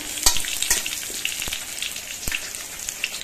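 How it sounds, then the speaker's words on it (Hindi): Potatoes fry in hot oil with a steady, fairly loud crackling sizzle, sharp pops and spatters breaking through at irregular moments. "अब मैं इसी तेल में जो है आलू को फ्राई कर लेती हूँ"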